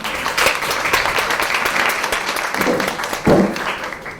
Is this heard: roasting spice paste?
no